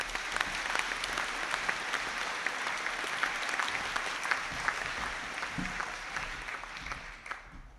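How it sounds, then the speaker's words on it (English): Sustained audience applause fills a conferring ceremony hall, a dense wash of many hands clapping at steady loudness that thins and fades near the end, with no voices over it. "I ask you to give them a round of applause."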